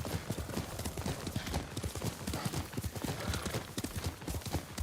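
Hooves clip-clop steadily in Ghost of Tsushima as a horse walks along, a close, rhythmic run of dull thuds over a hissy game ambience, with a faint whinny-like trace partway through.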